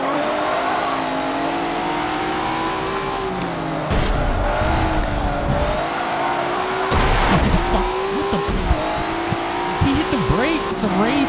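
Engine-swapped race car in the Midnight video game, its engine droning and revving loudly through gear shifts, with tire squeal and skidding bursts toward the end.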